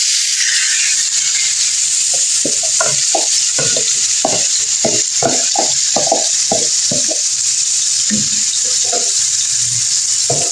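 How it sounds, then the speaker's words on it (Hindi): Marinated chicken frying in hot oil, a steady loud sizzle running throughout with a burst of irregular scraping and clattering from stirring in the pan, no voices. "ऑयल देखिए हमारा गर्म हो गया। हम इसमें मैरिनेट जो हमने किया था चिकन हम इसमें डाल देंगे।"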